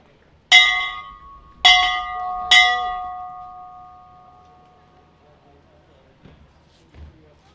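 A hand bell rings three times in quick succession at a high school graduation ceremony, loud, bright strikes that fade into a long decaying ring, followed by near quiet.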